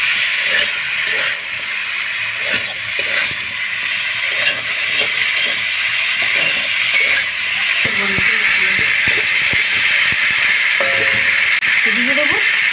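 Fish with cauliflower and potato sautéing in a pan sizzles with a constant hiss and stirring clatter, while a person talks over the cooking.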